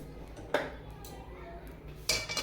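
Roasted peanuts tipped from a pan into a dish, two sharp clattering bursts of nuts and metal separated by quiet, close and fairly faint.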